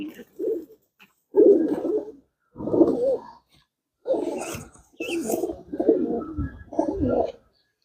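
Pigeons in a loft, including Rampuri and golden birds, coo in several close, throaty rolling bursts separated by short pauses, with no voices over them.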